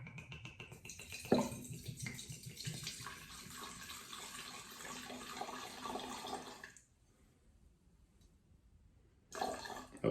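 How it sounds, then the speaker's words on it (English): Black Trumpet Blueberry Mushroom Cordial pours from a 12-ounce bottle in a steady glugging stream for several seconds, stops abruptly, then splashes briefly again at the end, close and fairly quiet. "so I'll just pour out half of the bottle"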